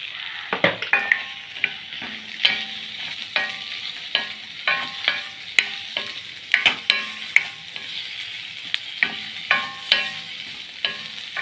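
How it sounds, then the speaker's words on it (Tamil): One large chopped onion sautés in a pan for paneer butter masala: a steady close sizzle broken by frequent sharp scrapes and clicks of stirring, with no voices. "வெங்காயம் ஒரு பெரிய சைஸ் வெங்காயம் அரிஞ்சு வச்சுருக்கிறேன், அதை வதக்கிடலாம்."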